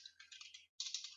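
Quick, light clicks of typing on a computer keyboard come in two close, steady runs split by a brief pause.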